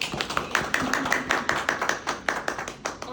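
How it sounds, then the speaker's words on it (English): Audience applause for candidates at a council speakout event, a small group clapping in quick, distinct claps that stay fairly close and even for a few seconds. "So let's give our candidates a round of applause."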